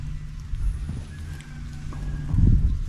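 A native-breed horse foal on a farm, with soft clip-clop hoof sounds and low animal rustling near the microphone, ending in a louder burst of low-pitched movement, with no talking.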